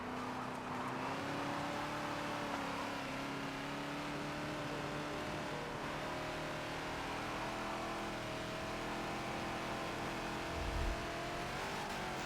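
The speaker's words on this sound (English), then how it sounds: "just getting in that, once I feel the car's settled, and it's just a slow roll back into the throttle" A Ford Falcon XB engine in the Forza racing game at Maple Valley holds a steady, loud droning note with slowly rising harmonics as it rolls back onto the throttle, continuous throughout with no talking.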